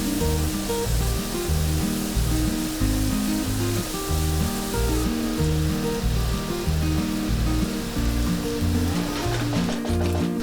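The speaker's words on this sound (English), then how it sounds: "Then add 2 onions chopped and fry it until the onion is nice and soft." Chopped onions fry steadily in a pan for Malaysian beef curry, a loud, continuous sizzle with no pause throughout.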